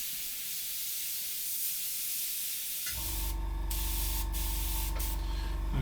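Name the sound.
airbrush spraying paint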